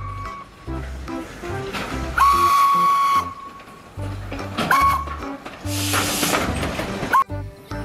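A Thomas toy train whistle sounds in short bursts over clattering, whirring toy noises, alternating between louder shrieks and quieter rattling.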